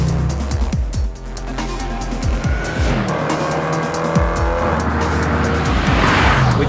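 A 2015 Range Rover Sport SVR with a 550 hp engine driving fast on a race track, loud engine revving through repeated up and down sweeps, with tire squeal in the corners and no talk.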